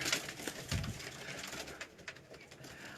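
Pigeons coo softly nearby, low throaty calls amid rustling and bird chatter.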